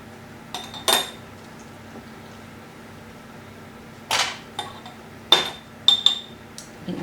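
A spoon scoops green bean chutney into a glass jar, giving a few sharp, close clinks and taps at irregular moments between quiet stretches, with no talking.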